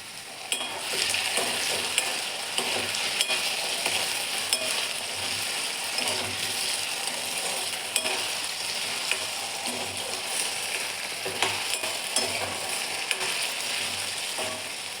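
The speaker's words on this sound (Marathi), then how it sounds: "दोन ते 3 मिनटं व्यवस्थित तळून घ्यायचे बटाटे आपल्याला." Potatoes fry in hot oil in a kadhai, giving a continuous, even sizzle with faint occasional stirring scrapes and no speech.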